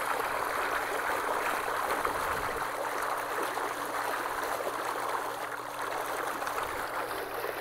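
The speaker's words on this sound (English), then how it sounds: "Turn the pump back on." A pool pump runs while its return jet aerates the water, producing a steady bubbling, gurgling churn with a low mechanical hum underneath, continuous and close throughout.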